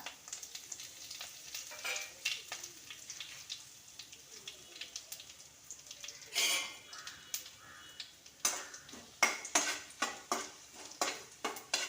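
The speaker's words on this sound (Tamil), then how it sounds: "நல்லா பொரியணும் மிளகா நல்லா செவந்து வரணுங்க" Dried red chillies fry in hot oil for a sambar tempering, with a soft, steady sizzle under light stirring clicks, then sharper crackles and pops toward the end.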